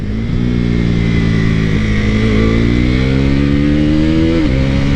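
A KTM motorcycle engine with a quick shifter revs loud and close, its pitch climbing in steps through several gear changes before dropping sharply near the end.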